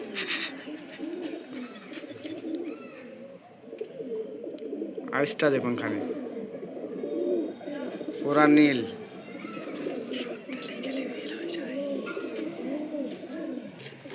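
Pigeon cooing murmurs steadily in the background of a loft while someone talks throughout, with a couple of louder sharp calls rising above the chatter.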